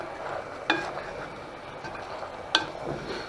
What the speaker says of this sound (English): I'm going to just give this another stir to get the spices mixed in there.